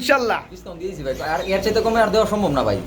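Pigeons coo at a pigeon sale, their soft, repeated calls mixed in with people talking close by.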